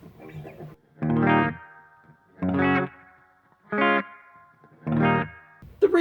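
Four separate bursts of distorted, high-gain electric guitar through an EVH 5150 Iconic amp with reverb added, each chord ringing out briefly and then trailing off into a short reverb tail, with gaps between them.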